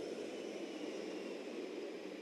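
ALH Mk4 Rudra helicopters flying past in formation at about 180 km/h over the Republic Day parade in India, a steady broad rushing engine and rotor roar held throughout, loud and continuous.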